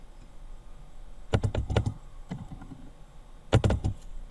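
A name is typed on a computer keyboard while setting up a Cisco router, heard as two short, quick bursts of close, crisp keystrokes separated by a pause, with a quiet background and no speech.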